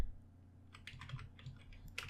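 A computer keyboard typed on in a short burst of close, crisp clicks, several quick keystrokes clustered in the second half over a low hum.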